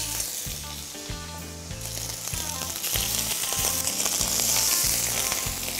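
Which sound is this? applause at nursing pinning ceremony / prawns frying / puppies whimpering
prawns frying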